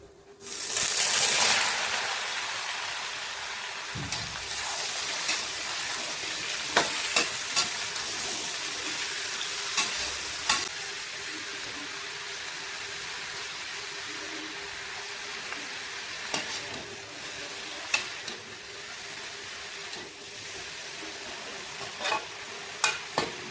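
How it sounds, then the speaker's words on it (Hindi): Oil sizzling loudly as garlic and chilies hit the pan, then a steady frying hiss with occasional clinks and stirring scrapes throughout. "तो यहाँ पे सबसे पहले मैंने लहसुन डाला है, लहसुन हल्का सा गोल्डन ब्राउन होगा"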